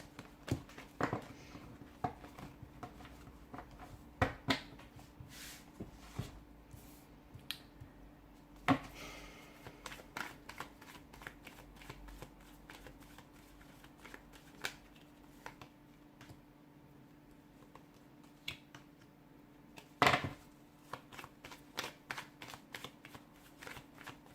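A deck of tarot cards is shuffled and handled close up, a long run of soft riffles, flicks and taps with a few sharper snaps, quiet and without talk.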